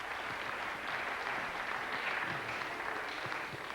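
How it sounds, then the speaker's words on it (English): A concert audience gives a steady round of applause, fairly faint and distant, with the claps blending into a continuous patter. "Give him another nice round of applause."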